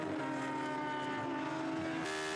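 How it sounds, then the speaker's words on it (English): V8-engined Radical race car powering down the straight at Snetterton, a sustained high engine drone that rises in pitch as it accelerates, moderately distant, with a sharp shift in tone near the end. "that extra power of the V8 engine powering down the Revit straight past the substantially less powerful Supersports class cars"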